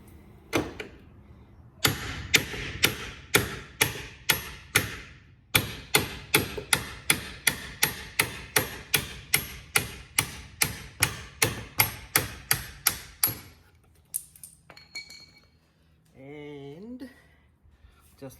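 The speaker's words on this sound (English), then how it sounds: "you're just going to start hitting it with a hammer" Hammer blows strike a removal tool to drive out a car door hinge pin: a long run of sharp, loud metallic whacks at a steady rhythm, pausing briefly once, then stopping as a voice speaks at the end.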